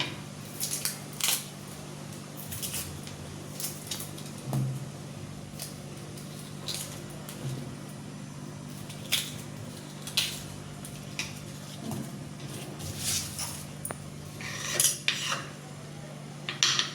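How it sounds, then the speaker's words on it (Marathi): A knife taps against a cutting board in scattered, sharp clicks and short bursts of chopping while an onion is cut finely, fairly close and quiet, with no talk. "आता घेते कांदा कापून"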